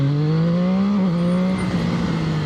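Zxmoto 820RR motorcycle engine revving under the rider, a loud close tone whose pitch climbs, dips briefly, then settles and wavers as the throttle is worked, with steady wind rush behind it.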